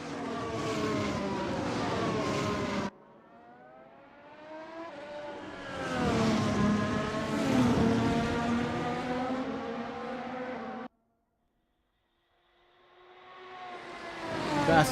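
Race cars on the final lap at Spa in a racing video game, engines droning and rising in pitch as they accelerate past, with a brief silent gap before another car revs up loudly at the end.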